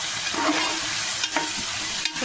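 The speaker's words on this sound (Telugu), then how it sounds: "ఇప్పుడు ఉల్లిపాయలు వేగిపోయినాయి" Onions sizzling in hot oil in a pan for chicken curry, stirred with a few scraping strokes over a steady frying hiss, close up.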